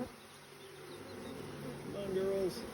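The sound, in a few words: honey bees buzzing around opened hive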